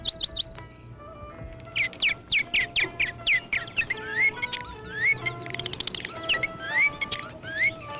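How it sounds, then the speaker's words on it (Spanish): A nightingale sings a run of bright, rapid trills and rising whistled chirps, close and clear, with repeated phrases across the whole stretch and no talk. "¿Tu ruiseñor canta por las noches?"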